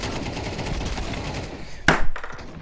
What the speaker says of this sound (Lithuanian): Kokio velnio shotguną šaudo kaip automatas?